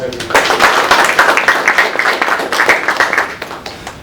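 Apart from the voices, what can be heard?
audience applause at a business networking event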